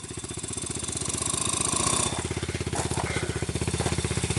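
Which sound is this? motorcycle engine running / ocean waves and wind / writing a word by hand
motorcycle engine running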